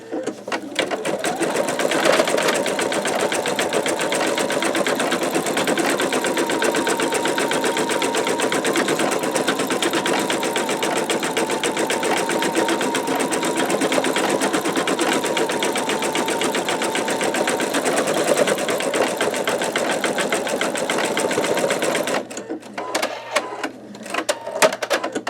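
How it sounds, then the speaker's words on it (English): An embroidery machine fitted with a MagnaHoop magnetic hoop stitches out a flower in a loud, rapid, continuous mechanical chatter that holds steady for most of the stretch, then breaks into a few irregular knocks at the end. "we are about to stitch out the last flower right over here before we change colors"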